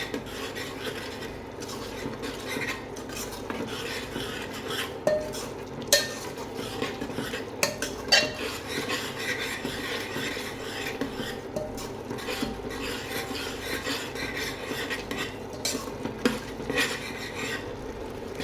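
A utensil scrapes and stirs against a pan with scattered clinks as spices roast with a little water, over a low steady background hum and soft sizzling.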